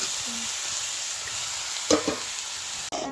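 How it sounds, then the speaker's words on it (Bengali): Cabbage frying in hot oil, a continuous close sizzle with a couple of sharp stirring scrapes near the end, no voices. "বাঁধাকপিগুলো তেলে ছেড়ে দিল।"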